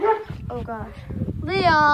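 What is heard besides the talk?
dog barking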